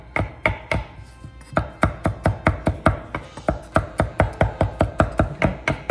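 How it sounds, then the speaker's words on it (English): A knife chops parsley on a cutting board in a quick, even run of about two dozen crisp, close thuds, with a short pause near the start and no talking. "And all we're going to do is just give this the lightest chop."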